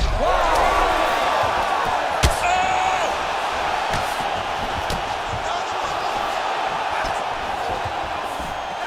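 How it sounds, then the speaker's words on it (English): Arena crowd noise in an EA Sports UFC 5 fight, a constant roaring hubbub with whoops and cheers swelling as strikes land, plus a sharp thud of a hit and a commentator's voice over the din. "And you hear the crowd react every time they come together."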